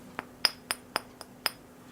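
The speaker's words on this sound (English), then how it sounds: "It's in a glass bottle" A glass soda bottle clinks six times in a steady rhythm, each a bright, ringing tap, close and fairly quiet, with no talk.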